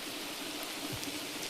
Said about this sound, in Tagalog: Ulanan sila. Thank you Lord sa ulan.